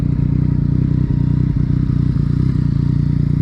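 Yamaha MT-09 motorcycle with an Akrapovic titanium exhaust rumbling at a steady low idle while being parked, loud and close, with a few light clatters and scrapes over the engine drone.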